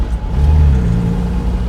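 An MGB GT sports car engine accelerates under a heavy right foot, a steady low drone building through the gears from inside the cabin, with a voice talking over it.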